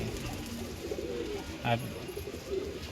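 Pigeons cooing at a pigeon sale, their soft, low coos rolling close by while faint human voices murmur in the background.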